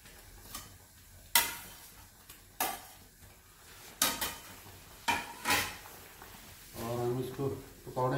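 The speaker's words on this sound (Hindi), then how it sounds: "अब हम इसमें अपने पकौड़े डाल रहे हैं।" Pakoras drop into a pot of simmering kadhi and get stirred through it, giving soft scraping clinks and intermittent spoon-on-pot knocks with a faint bubbling underneath, fairly quiet and close.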